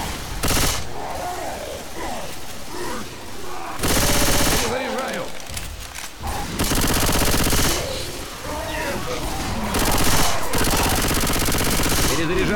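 Bursts of automatic gunfire from a modded shooter video game, with loud sustained fusillades broken by short pauses, under a voice speaking.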